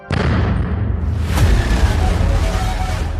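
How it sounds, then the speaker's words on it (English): A sound effect of an aircraft exploding midair: a sudden roaring blast bursts in, swells with a second heavy boom, and trails into a long, loud rumbling wash. "An explosion rips through the aircraft."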